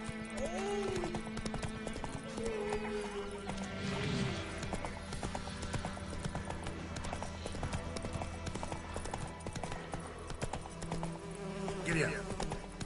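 Roach the horse gallops in The Witcher 3, steady hoof clip-clop running throughout amid game ambience and buzzing insects, with a brief whinny and short spoken urging near the start and end.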